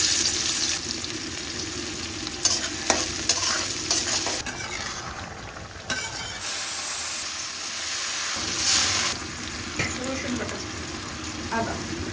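Fish sizzling and frying in a pan in a home kitchen, a steady hissing crackle with stirring scrapes throughout, fairly close and moderately loud, with faint voices in the background.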